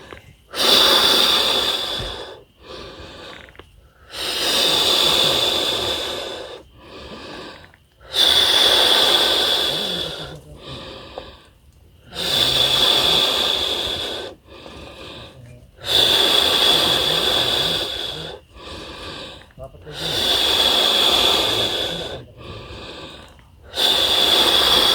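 Heavy, laboured breathing of a hiker climbing Mount Sumbing via the Banaran route: loud, close breaths in a slow regular rhythm, each long rasping inhale and exhale separated by short pauses, with no talking.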